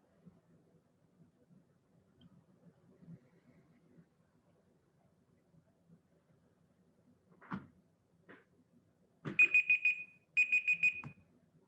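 A 20-second countdown timer alarm goes off after a quiet stretch with low murmuring, sounding two loud bursts of rapid repeated electronic beeps near the end, preceded by a couple of brief clicks.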